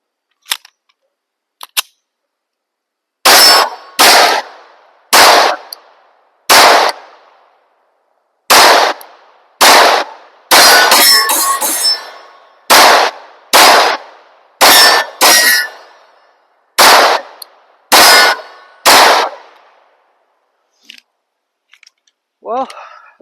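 A P80 Glock 19 pistol fed from 17-round OEM Glock magazines, a string of loud, sharp single shots fired at an uneven pace, some in quick pairs, with a brief gap before the shooting begins.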